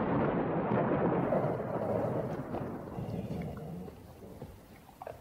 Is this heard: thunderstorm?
yes